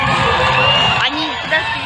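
Crowd cheering and whooping from an outdoor audience at a stunt driving car show in Dzerzhinsk, a loud continuous roar of voices with shouts rising over it.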